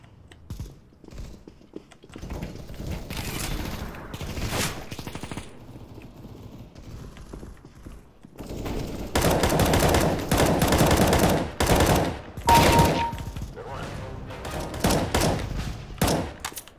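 Video-game automatic gunfire in dense rapid bursts, loud and close, with brief pauses between volleys and mechanical clicks in the gaps; no talking over it.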